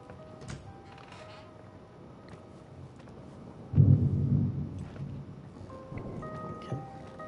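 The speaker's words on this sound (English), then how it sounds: "Sounds like thunder." Thunder in the video game The Suicide of Rachel Foster, played on PS5: a single deep rumble swells suddenly, then slowly fades under quiet ambient game sounds.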